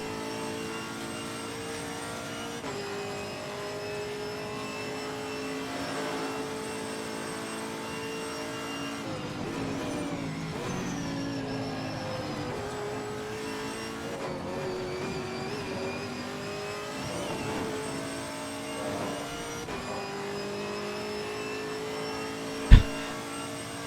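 A Chevrolet Camaro GT4.R race car engine in Assetto Corsa Competizione revs and shifts through gears around Monza, rising and falling steadily without talk, ending with a sharp thump.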